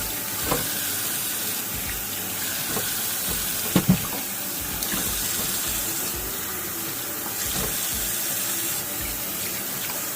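Tap water runs steadily into a sink while something is rinsed in a basket, a continuous close splashing rush with a few brief knocks and clatters partway through.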